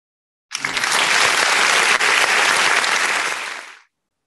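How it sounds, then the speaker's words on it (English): A school audience breaks into steady applause that starts abruptly, holds at full strength for about three seconds and then fades out, loud and close with no voices over it. "Please give her a round of applause."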